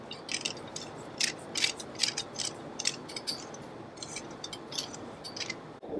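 Threaded plastic leg sections for a DIY aquaponics rack are screwed together by hand, giving a close series of quick ratcheting clicks and scrapes in uneven bursts, ending with a soft knock, with no talking.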